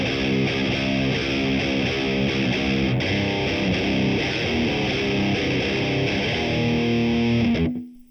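Heavily distorted electric guitar played through a Boss Katana Gen 3 amp with the booster engaged, chugging out a chunky, rhythmic low riff, loud and up close before cutting off abruptly.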